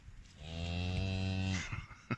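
A cow lows once in a long, deep moo of about a second, close and loud, outdoors at night on a cold, wet, windy Irish farm with a newborn calf, then a short rustling thump.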